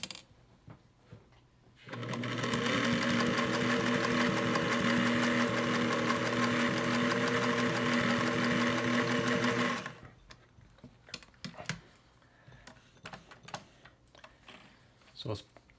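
Singer 404 sewing machine stitching through four layers of denim, a fast steady mechanical whirr and rapid needle clatter for about eight seconds, framed by quiet handling clicks and bumps before and after.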